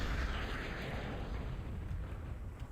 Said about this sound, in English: Breezy's flashes go down to the gas bag explosion.